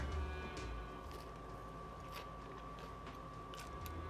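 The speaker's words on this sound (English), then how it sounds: "I don't know if you can hear the crunch." Crunchy snack-size prebaked pizza crust bitten and chewed close up, a steady crackly crunching with several sharp crisp snaps over a continuous background hum.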